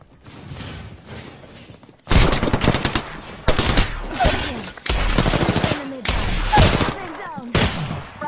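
Gunfire in the battle royale game Apex Legends rattles out in rapid automatic bursts. A quieter stretch of shooting gives way to loud, close, repeated volleys separated by short gaps.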